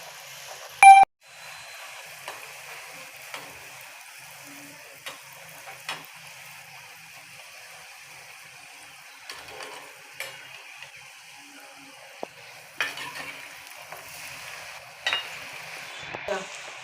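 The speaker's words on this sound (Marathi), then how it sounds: "आता आपण जे पुऱ्या आहेत ते तळून घेऊया." Puris deep-fry in hot oil in a small kadhai, giving a steady soft sizzle with scattered faint clicks and one sharp utensil tap early on.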